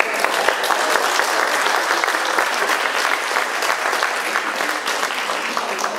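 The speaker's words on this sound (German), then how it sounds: "also bitte geizen Sie nicht mit dem Applaus." An audience at a bluegrass festival in Munich applauds a banjo band with dense, sustained clapping from a large crowd. The applause stays loud and steady throughout.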